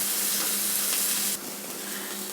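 Diced onions frying in a pan over a lowered flame with a steady sizzle and hiss throughout, dropping slightly in level partway through as they are stirred.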